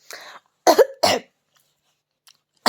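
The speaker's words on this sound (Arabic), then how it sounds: "جالنا كحه" A couple of sharp, close coughs in quick succession, then near silence with a faint click and another short cough at the end.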